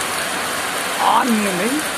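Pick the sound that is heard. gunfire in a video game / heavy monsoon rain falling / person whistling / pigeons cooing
heavy monsoon rain falling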